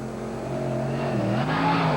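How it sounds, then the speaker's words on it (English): The Bigfoot Ford monster truck roars through a racing run inside the Houston Astrodome, a loud, sustained engine drone with a rising pitch, heard over the echoing arena ambience. "But Andy Brass looks like he is handling this run beautifully."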